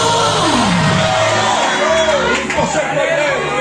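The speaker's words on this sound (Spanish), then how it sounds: "Hay alguien que grita gloria" A church congregation member shouts out praise during a Spanish-language service, with loud whooping and crowd voices rising and falling over a steady roomy background.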